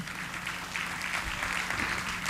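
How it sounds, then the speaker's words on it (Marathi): Applause from an audience at a conference session. A steady patter of clapping runs through the short clip at moderate loudness, with some faint voices behind it. "तर याच्यासाठी तरी तुम्ही टाळ्या वाजवा"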